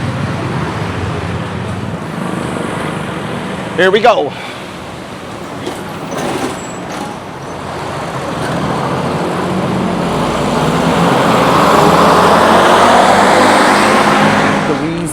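Busy street traffic rumbles steadily while a bus approaches, its engine noise swelling to a loud, close roar near the end; someone speaks briefly early on.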